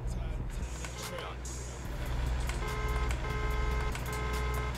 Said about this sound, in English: it does sound a little truckish outside of the cab, but it's a real car-ish horn for a truck